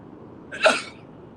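A single short sneeze bursts out once, fairly faint, with quiet around it.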